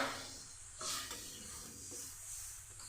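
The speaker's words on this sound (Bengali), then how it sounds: "ভালো করে নেড়ে নিচ্ছি" Taro and okra curry being stirred in a pan with water, a soft wet sizzle and scraping of a spoon through the mixture in uneven strokes, close and fairly quiet.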